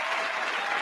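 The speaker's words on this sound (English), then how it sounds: "And the crowd went wild." Audience applause at a crooners jam session, a dense, steady burst of clapping from a crowd, fairly close and continuous.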